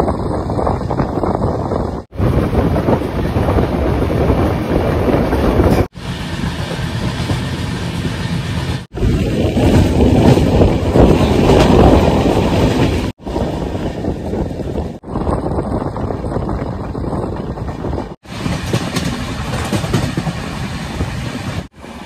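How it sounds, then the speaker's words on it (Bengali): An Indian passenger train runs at speed past green fields, a loud continuous roar and rattle of wheels and wind, broken into several segments by abrupt cuts, with no voices. "তার পাশ দিয়ে আমাদের ট্রেন ছুটে চলেছে"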